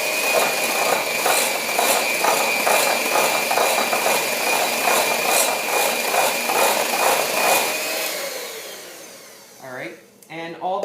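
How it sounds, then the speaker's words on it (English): A handheld mixer beating banana bread batter produces a close, steady mechanical whir with a rapid rhythmic pulse that winds down near the end, followed by a brief voice. "with a handheld mixer, or you could use the stand mixer, I'm just going to beat this till it's a bit creamy"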